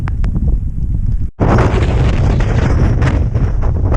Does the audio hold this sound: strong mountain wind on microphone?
yes